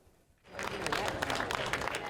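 Campaigners applaud outside as a final inquiry report is made public, a sustained burst of clapping from a gathered crowd that rises suddenly and continues steadily.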